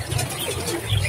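A pet bird, likely a pigeon, coos softly while being fed, a low steady murmur running through the whole short moment with a slight swell near the end.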